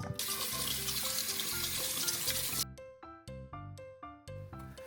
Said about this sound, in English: Give it a good rinse under cold water.